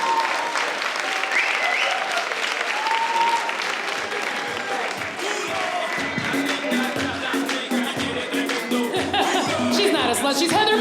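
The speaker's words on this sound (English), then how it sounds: "Make some more noise for Heather and her" Audience applause at the Laugh Factory comedy club in Chicago, a dense sustained clapping from the crowd with some cheering, while a host speaks over it.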